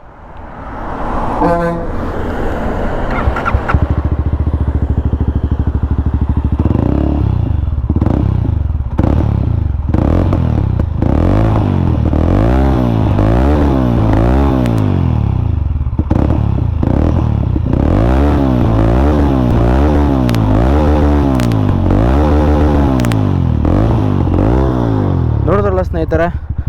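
A Mahindra Mojo motorcycle engine idles and revs repeatedly up and down, loud and close, its pitch rising and falling in steady sweeps with a brief blip near the end.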